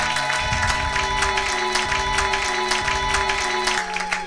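Church congregation clapping and cheering at a worship service, a steady wash of applause with a sustained tonal hum beneath it.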